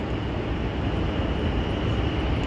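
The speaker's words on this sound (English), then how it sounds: "just got off the tram" Steady, loud rumble of a Las Vegas tram in motion, a continuous rolling roar with rail noise throughout and no voices.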